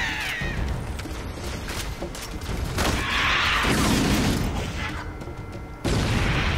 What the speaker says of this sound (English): Let's see what a grenade does here.